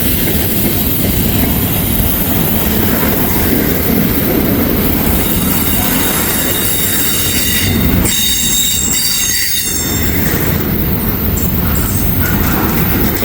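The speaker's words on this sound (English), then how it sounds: "I think I hear some DPUs coming up" Freight train hauling containers with DPU locomotives rolls past on a steep grade, wheels squealing loudly amid a dense, continuous rumble and rattle of cars, close and sustained throughout.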